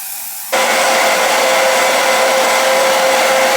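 Lace tint sprayed from a can onto the lace of a pre-cut yaki wig, heard as one steady, loud, close hiss that starts suddenly and runs without a break.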